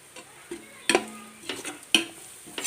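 Garam masala powder is worked into a frying masala, heard as a few sparse spoon scrapes and light metallic knocks on the pan over a soft low sizzle.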